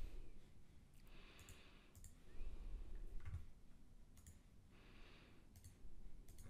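A word being typed on the keyboard of a NuVoice speech device, a few soft, quiet key clicks spaced unevenly in a calm room.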